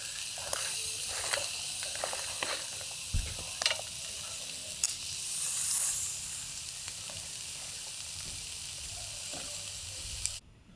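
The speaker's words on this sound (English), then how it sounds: "just got some coals underneath, so that's sizzling away nicely there" Meat sizzles steadily on a Weber grill hot plate set over coals at a campsite, a continuous soft frying hiss with occasional crackles and pops, close and alone without talk.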